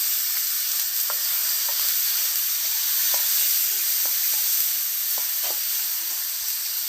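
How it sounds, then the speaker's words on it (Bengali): Chopped tomatoes fry in a pan with cinnamon and crushed cardamom, giving a steady loud sizzle with occasional faint stirring taps. "টমেটোগুলো ভাজা ভাজা হয়ে গেছে"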